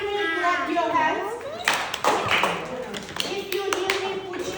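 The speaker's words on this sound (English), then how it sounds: "if you hear me, clap your hands." Kindergarten children clap their hands together in a classroom during a lesson, a quick burst of several claps under a teacher's and kids' voices.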